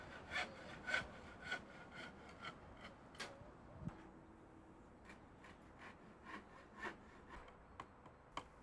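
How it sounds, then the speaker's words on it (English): Handsaw cutting through timber stakes, a run of rhythmic rasping strokes close by, each push and pull scraping through the wood at a steady pace. "Start by cutting several lengths of timber stakes."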